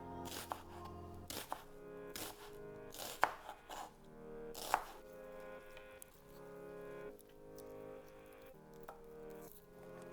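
A knife slices half a red onion thinly on a cutting board for a citrus and pomegranate salad, a rapid series of close crisp chopping taps with a few sharper knocks, alone without talk.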